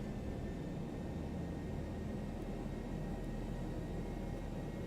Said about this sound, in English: I'm going to increase the thrust so that we pick up some speed here